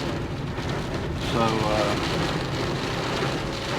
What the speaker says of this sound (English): we will see if this rain that I'm driving in actually makes it down to where the cows are